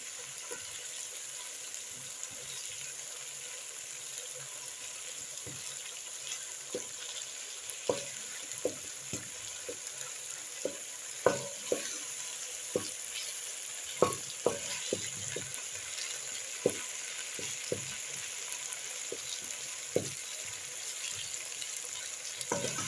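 Onions browning in a pan for a pilau stew paste give a steady close sizzle, with irregular clicks and scrapes of stirring that grow busier toward the middle; no voices.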